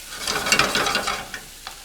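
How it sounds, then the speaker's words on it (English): Pan scraped while deglazing for Philly cheesesteak egg rolls, with onions and garlic cooking: a spoon or spatula rasps in quick, close strokes over a soft sizzle of evaporating liquid, then a couple of lighter scrapes, with no voices. "We're gonna try to scrape some of this stuff up while evaporating the liquid back into it."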